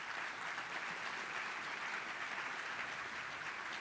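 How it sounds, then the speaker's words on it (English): Steady, dense applause from a large crowd at a chamber of commerce awards breakfast, filling the room evenly for a few seconds with no voices over it. "Ladies and gentlemen, a round of applause for those Cobra members."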